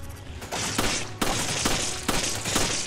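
Gunfire from the Resident Evil 5 video game: a steady volley of loud, close shots with sharp bursts every half second or so, layered over a dense roar of game action.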